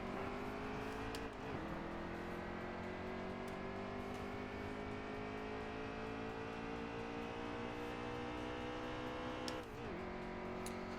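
Race car in the NASCAR Heat 3 video game at the Dover oval, a steady high engine drone with gear-change dips, continuous and fairly faint throughout.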